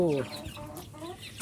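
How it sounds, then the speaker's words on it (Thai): Young chickens around six to eight weeks old cluck and peep close by, a short rising call followed by scattered soft clucks, with no talking over them. "ไก่เล็กนะครับ ไก่รุ่นนี้"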